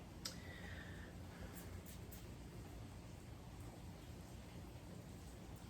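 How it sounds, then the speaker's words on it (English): Rain falls outside, a steady faint wash of drops running throughout with a few soft clicks near the start. "Wow, it's raining."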